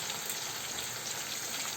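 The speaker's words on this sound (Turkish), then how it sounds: "Biraz kızartmaya devam ediyorum." Zucchini slices sizzle as they fry in hot oil, a continuous, even crackling hiss up close, with no voices.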